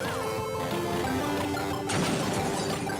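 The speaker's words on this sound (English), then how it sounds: "Road Trip Endless Driver, an endless car crash simulator that goes on and on and on." A car crashes in the mobile game Road Trip Endless Driver with a loud, dense smash and clatter of impacts. A sharper burst lands near the end of the short stretch, over steady game sound.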